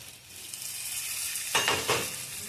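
Soybean chunks and potatoes fry in spiced oil, giving a steady close sizzle with two louder bursts of stirring and scraping near the end.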